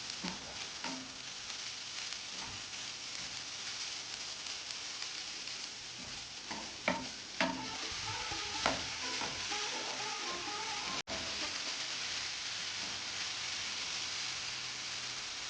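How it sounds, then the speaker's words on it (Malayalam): A sugary banana mixture is stirred in a hot pan as the sugar melts, giving a steady soft sizzle with a few scraping clicks of the spoon, close and continuous with no talk. "അതെല്ലാം നല്ലതുപോലെ ഒന്ന് മിക്സ് ചെയ്ത് ആ പഞ്ചസാര ഒന്ന് അലിഞ്ഞു വരുന്ന പരുവാകുമ്പോഴേക്കും നമുക്ക് മാറ്റി വയ്ക്കാം"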